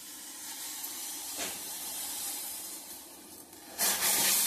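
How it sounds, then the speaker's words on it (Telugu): Water boiling in a cooking pot in a home kitchen, a steady low hiss and bubbling simmer heard alone, with a brief louder burst near the end. "నీళ్ళు కూడా మరుగుతున్నాయి"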